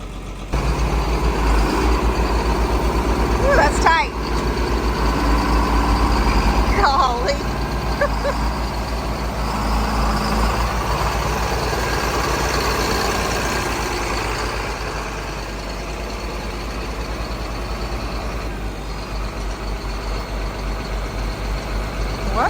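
A four-wheel drive tractor engine runs steadily while hay is raked, baled and hauled on a hillside field. A loud, continuous diesel rumble holds for the whole stretch with only small swells.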